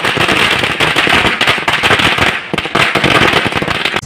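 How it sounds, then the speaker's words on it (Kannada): Supporters celebrating an MLA's election win on DVG main road set off firecrackers: a loud, dense, rapid string of cracks and pops, nearly continuous, with brief gaps midway. "ಪಟಾಕಿ ಸಿಡಿಸಿ ಸಂಭ್ರಮಿಸಿದರು"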